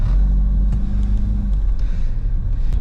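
1986 Pontiac Fiero driving, a deep engine rumble heard from inside the car with a low drone that shifts in pitch as it accelerates, steady and fairly loud for a few seconds, with no voices.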